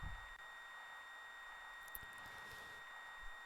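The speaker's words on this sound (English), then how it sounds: "this ringing sound that you hear is this in range telling me that I've got a targeted range" A steady high electronic ringing tone in the flight game Jane's ATF signals a target in range, holding throughout over faint background hiss, with a couple of brief blips near the end.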